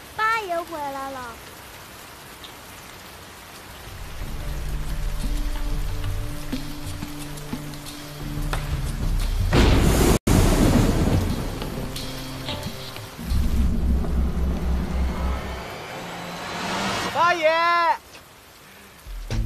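Steady rain pours down in a movie street scene, a dense broadband hiss that swells and thickens midway, with people talking and music playing over it; no clear thunder stands out.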